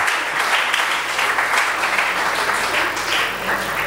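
A church congregation applauds with steady, dense clapping that fills the room without letup for the whole stretch.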